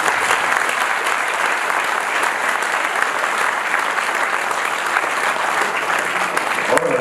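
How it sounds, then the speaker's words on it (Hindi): An audience at an Ambedkarite political gathering claps continuously: a loud, dense, even patter of many hands with no break throughout. "आप सब ताली बजा करके कहिए"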